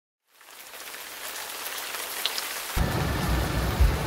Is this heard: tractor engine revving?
no